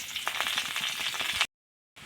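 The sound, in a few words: chopped onion frying in hot oil in a wok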